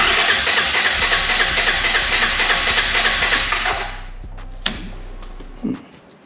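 Suzuki Eiger QuadRunner four-wheeler engine cold-starting and running loud and close with a steady rough idle for about four seconds, then cutting off, followed by a couple of faint clunks.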